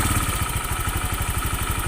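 A Honda Vario 125 scooter engine runs at idle, a steady close rapid putter with mechanical clatter, loud and continuous with no talking.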